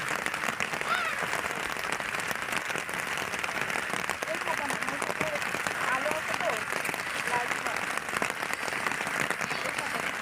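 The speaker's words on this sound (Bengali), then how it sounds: "বৃষ্টি হচ্ছে।" Steady patter of rain falling on a small boat and the surrounding water of a lily-filled wetland, a dense continuous hiss with voices talking faintly underneath.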